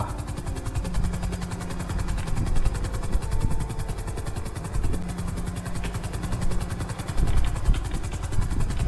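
Helicopter in GTA V flying steadily, a loud continuous rotor thump and engine whine running throughout with slight swells, no voices.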